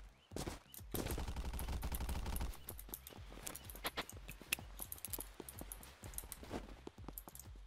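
Rapid M4 rifle fire in the video game Unturned, a dense automatic burst early on followed by scattered single shots and short volleys at fairly low volume, with no talking.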